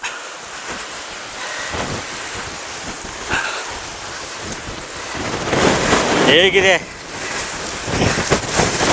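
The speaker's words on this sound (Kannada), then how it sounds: "ಎಷ್ಟು ಗಾಳಿ ರಭಸ ಇದೆ ಇಲ್ಲಿ ಅಂದರೆ ವಾವ್" Strong wind at Gundal reservoir buffets the microphone in loud gusty roars throughout, with someone speaking briefly amid the noise.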